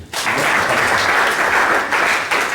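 A church congregation applauding to acclaim Jesus, a loud sustained burst of many hands clapping together, swelling and dipping slightly in a reverberant hall.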